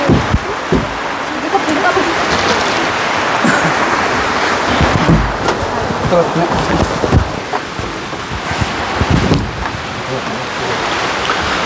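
Heavy rain pours steadily close by, a dense hiss with scattered patters and splashes throughout, while people talk over it now and then.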